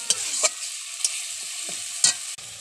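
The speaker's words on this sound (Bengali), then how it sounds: "জল দিয়ে কষিয়ে নিচ্ছি, সামান্য পরিমাণ মেথি পাতা দিয়ে দিচ্ছি, দিয়ে ভালো করে কষিয়ে নিচ্ছি।" Pointed gourd, potato and shrimp curry with fenugreek leaves and water being stirred in a wok, a constant close frying hiss punctuated by several sharp spatula scrapes and knocks.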